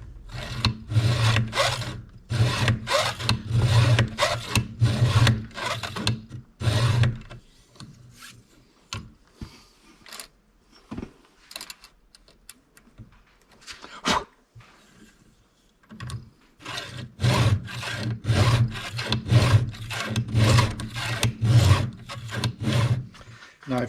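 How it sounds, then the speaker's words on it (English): A hand file rasps across saw teeth in quick, rhythmic forward strokes, close and steady, with a quieter stretch of scattered scrapes and taps in the middle before the brisk filing resumes. "You always want to sharpen with the file moving forward."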